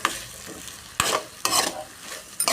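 Bottle gourd pieces with salt are stirred in hot oil in a pan. Four distinct scraping, sizzling strokes come close and clear at roughly even intervals, with no voices.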